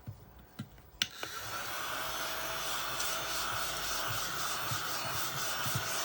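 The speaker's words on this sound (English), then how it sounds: "let's use the little vacuum and see if it works on this." A small handheld vacuum used while making dried flower UV resin and sterling silver earrings switches on after a couple of clicks and runs with a steady, even whir, close and moderately quiet.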